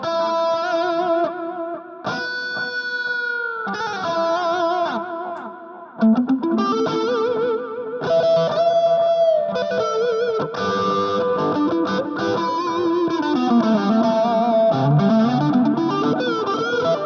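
Electric guitar played through a Mooer SD30i amp with effects, distorted tones with chorus, delay and reverb, shifting between sustained chords and bent single notes, loud and continuous with no voices.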